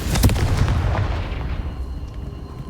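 The Confringo blasting spell in Hogwarts Legacy goes off as a loud, close explosive burst with a heavy low boom, then a rumbling tail fading over a couple of seconds.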